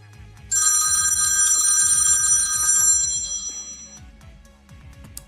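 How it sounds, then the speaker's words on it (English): Mobile phone ringing during a live stream, a bright electronic ringtone that starts abruptly, holds loud for about three seconds and then fades, with faint low background sounds underneath. "Well, I didn't silence my phone, did I?"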